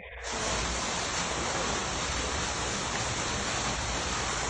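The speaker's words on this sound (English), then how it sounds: "a waterfall that you hear. Yeah. At my office, there's a waterfall." Indoor office waterfall runs as a constant, dense rush of falling water, steady and close with no pauses from start to finish.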